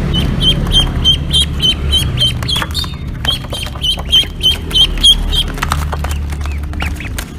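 Quacking ducks in the game Jurassic World Evolution 2, loud and close, with a run of sharp, repeated quacks and squawks over a low rumbling background.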